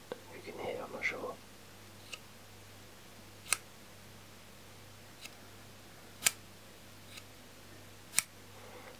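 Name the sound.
plastic lighter being opened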